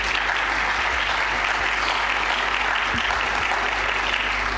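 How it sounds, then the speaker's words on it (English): Audience at a children's mental health forum gives the panellists a round of applause, loud continuous clapping that stays steady throughout. "Give them a round of applause."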